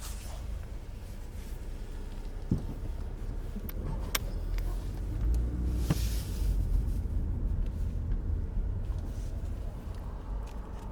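A police squad car drives past on a street, its steady low engine and tire rumble rising and swelling to a peak midway before fading, with faint background noise throughout.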